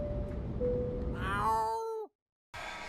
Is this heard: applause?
no